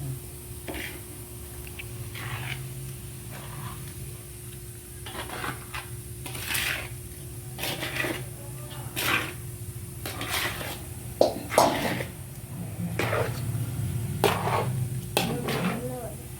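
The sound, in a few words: stirring jaggery syrup for laddoos in a pot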